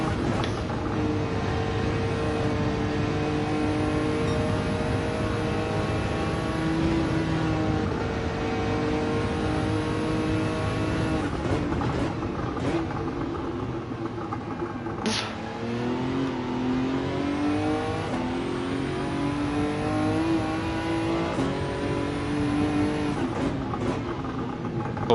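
A Nissan GT-R races in Gran Turismo 7, its engine climbing steadily through the gears with rising, falling harmonic revs and a sharp shift blip midway, loud and continuous over roughly twenty-five seconds.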